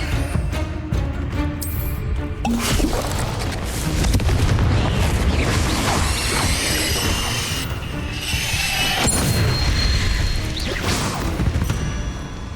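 Confringo fire spells exploding in Hogwarts Legacy combat, with loud booming blasts, crashes and whooshes layered densely throughout, near and continuous with no pause.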